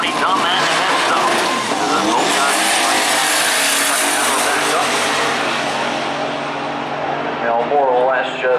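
Drag racing at Maryland International Raceway, including a 1980 Mustang: a loud, sustained roar of racing engines with a whining pitch sweep near the end, under a track announcer's commentary.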